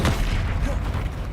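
A Confringo fire spell explodes in Hogwarts Legacy, a loud, dense low boom that rumbles on briefly, with a player's voice calling the spell at the start.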